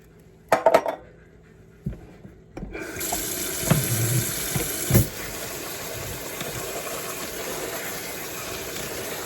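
Running tap water streams into a kitchen sink as canned food is drained and rinsed, with a few clinks of metal and dishes at the start before a steady, continuous splashing flow, fairly quiet and with no talk.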